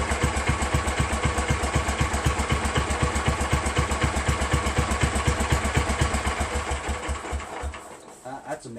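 An Exmark Metro 36 commercial walk-behind lawn mower engine idles with a rapid, even chugging pulse, then fades and stumbles near the end; a person speaks over it.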